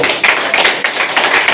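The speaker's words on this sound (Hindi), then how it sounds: "बात समझ में आ गई तो ताली बजाओ।" Audience clapping in a hall at a business plan presentation, a short burst of several rhythmic claps close by, with no speech over it.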